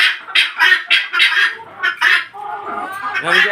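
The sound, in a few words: guinea fowl (titir) calling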